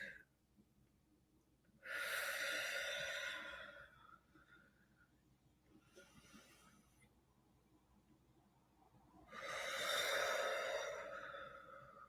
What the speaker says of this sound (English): Will you take 3 deep breaths with me?